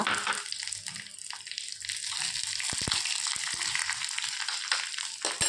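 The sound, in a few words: dried red chili frying in hot oil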